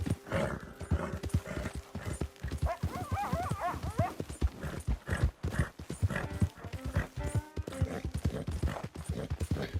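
Horse hooves clip-clop steadily in Red Dead Redemption 2, a dense, close rhythm of hoofbeats running throughout, with a brief whinny-like tone partway through and some game ambience underneath.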